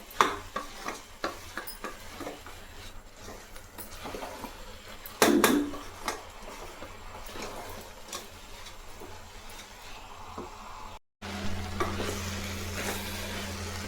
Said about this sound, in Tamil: நல்லா ஒரு 2 நிமிஷம் இது போல் கலாரி விட்டுக்கலாம்